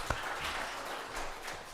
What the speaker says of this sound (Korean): 다시 한번 박수합니다.